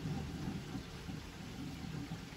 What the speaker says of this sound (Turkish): Konya'da bugün aşırı derecede yağmur var.